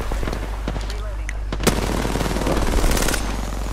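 Apex Legends firefight: rapid automatic gunfire rattles in quick bursts with sharp single cracks, close and loud over a steady low hum, with an automated voice callout talking through the shooting.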